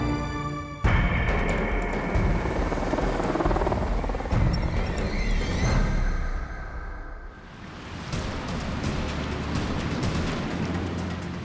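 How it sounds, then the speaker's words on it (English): Heavy helicopter rotor noise thunders close and loud from three helicopters, a rapid chopping roar that swells, dips briefly, then continues strongly, in the remote far south near South Georgia. "3 helicopters head into the void."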